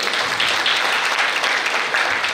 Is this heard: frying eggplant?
no